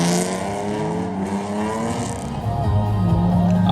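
A drift car slides through a hairpin on a track, its engine droning steadily with shifting harmonic pitch and a faint rising whine throughout, fairly loud and continuous with no break.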